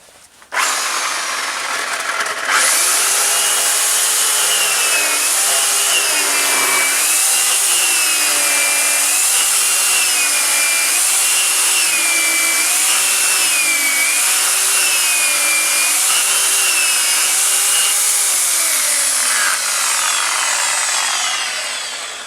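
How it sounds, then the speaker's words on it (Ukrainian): An electric Makita chainsaw fitted with a 35 cm Stihl 180 bar cuts through a small pile of firewood, with a loud, continuous whine that rises and falls as the chain bites into the wood. "Ось така кучка дров треба перерізати. Поїхали різати."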